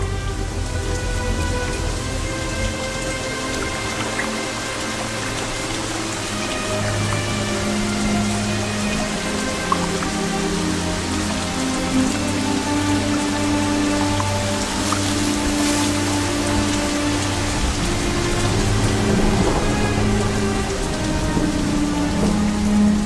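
Steady, heavy Amazon rainforest rain pours down continuously, with deep low rumbles of thunder rolling underneath throughout.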